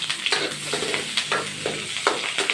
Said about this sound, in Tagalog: Magigisa na po ako mga kaibigan. Ito na po, ilalagay ko na ang bawang at sibuyas.